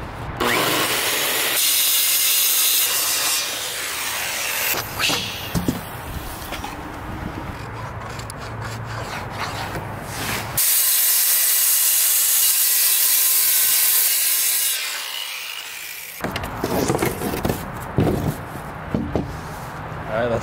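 A saw cuts wood along a marked line in long, loud, continuous rasping stretches with brief breaks, heard up close.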